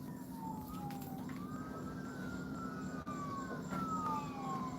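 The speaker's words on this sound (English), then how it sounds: "That's no surprise that I'm hearing a fucking siren." A police siren wails in the distance, its pitch sweeping slowly up and down, fairly faint over low background rumble with no talk.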